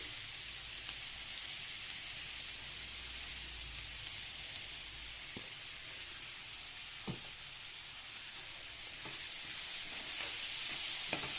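Onions and minapa vadiyalu (dried lentil fritters) frying in a pan, a steady dense sizzle running throughout with a few scraping stirs, growing slightly louder toward the end, no talking.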